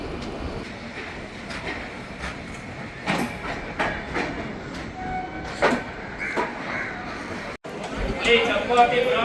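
The Tambaram–Tirunelveli summer special express train runs on rails, giving a steady rumbling roll with faint rhythmic clicks heard from on board, under a person talking throughout.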